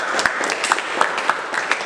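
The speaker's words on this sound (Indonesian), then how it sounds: "Tepuk tangan untuk kita semua." Sparse clapping from a small group in a classroom discussion session, a handful of irregular hand claps over a short burst, fairly close.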